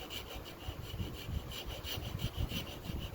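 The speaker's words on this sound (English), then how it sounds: "Back to our regular scheduled programming of just filing" A file rasps back and forth across the metal of a broken knife in steady, repeated strokes, close and fairly loud, with no talking.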